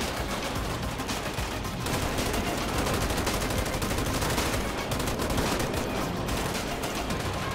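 Dense, continuous gunfire crossfire in the video game GTA 5, many rapid shots overlapping at steady loudness throughout with no talk.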